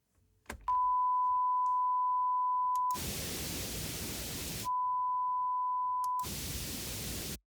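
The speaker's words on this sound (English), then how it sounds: "on the actual test generator, I have some pink noise" A steady hiss of pink noise from Cubase's test generator switches on and off twice, each burst a couple of seconds long, alternating with a thin steady electronic tone.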